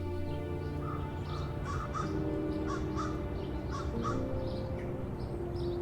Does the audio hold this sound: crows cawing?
yes